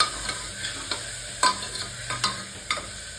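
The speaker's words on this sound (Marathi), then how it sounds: "तर आता लास्टला आपण टोमॅटो ॲड करूया. मस्त याला असं परतून घ्यायचं." Tomatoes being sautéed in a pan for khichdi, with a soft sizzle and a spoon scraping and stirring in several distinct strokes at an uneven pace. The sound is close and steady, and no one speaks.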